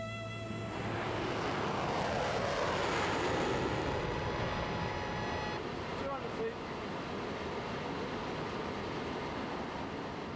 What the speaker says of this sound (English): 30 miles out from New York, the pilot lowers the nose cone ready for landing.